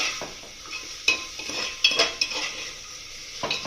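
A utensil stirs raisins frying in a pan, with scraping clinks and metallic clatters in irregular bursts over a soft sizzle, close and clear, no voices.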